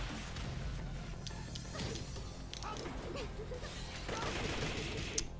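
Machine gun bursts from a fighter in Tekken 7, rattling fire mixed with smashing impacts and whooshes over a busy, continuous game soundscape.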